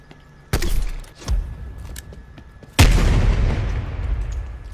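In Black Ops Cold War, a spawn tube fires with a sudden loud boom, then a second heavy blast lands about two seconds later and trails off in a long rumbling decay.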